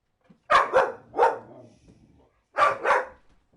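A dog barks in quick pairs, three sharp barks, a pause, then two more, close and loud in an otherwise quiet indoor space.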